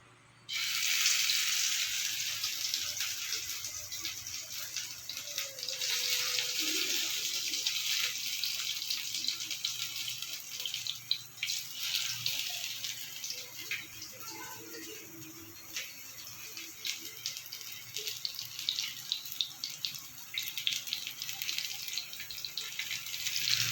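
Banana blossom fritters fry in hot oil, giving a steady, close hiss that runs unbroken for a long stretch, with small pops and crackles scattered through it.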